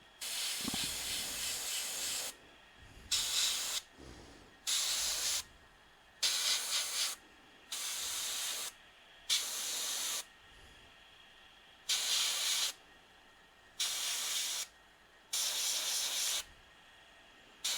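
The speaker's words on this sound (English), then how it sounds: "Airbrush done. Empty." Airbrush spraying paint onto miniatures in repeated short hissing bursts, about a dozen evenly spaced blasts of a second or so each, close and steady.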